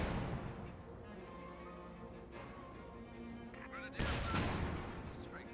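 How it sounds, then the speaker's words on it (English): Panzerwerfer rocket artillery barrage in Company of Heroes 2, a continuous rumbling volley of launches and explosions throughout, with a louder burst of impacts near the end over a background of battle noise. "Panzerwerfer barrage over here."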